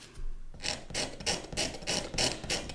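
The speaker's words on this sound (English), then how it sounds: "So I want to scrape it." Oil pastel is scraped off paper in a rapid series of about seven rough, rasping strokes, close and fairly loud, with no talking.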